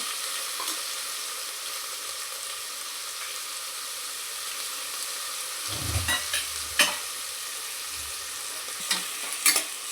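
A spoon scrapes and stirs chopped bottle gourd in a hot pan for masoor pulao. A constant soft sizzle runs underneath, and louder scraping knocks cluster toward the end.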